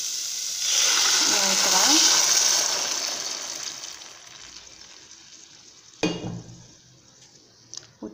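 About a quarter jug of water is poured into a hot pan of vegetables for soup, bursting into a loud sizzling hiss that gradually fades, followed by a few close utensil clinks.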